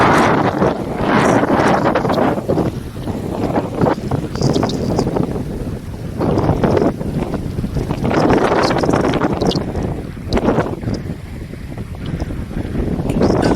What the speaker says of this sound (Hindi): आप सुन सकते हैं नदी के बहाव की आवाज़ और बहती हुई तेज़ ठंडी हवा को।